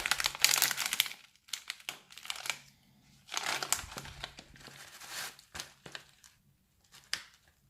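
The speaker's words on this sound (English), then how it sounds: "Let's open the package." A package of Samui coconut chips is torn open and handled up close, giving bursts of loud plastic crinkling and crumpling separated by brief pauses.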